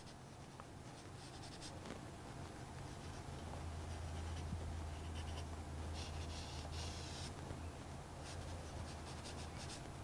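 Pencil scratching marks on paper while shading a drawing, a soft continuous scratchy rasp with a few brief bursts of firmer strokes, faint and close.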